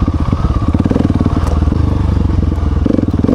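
A 2019 KTM 690 or Honda Africa Twin motorcycle riding a scenic trail, its engine a loud, steady, close-up thumping drone with light clatter from the rough ground, and no talking.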